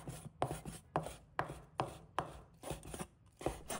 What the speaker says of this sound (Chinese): 鱿鱼也切成小块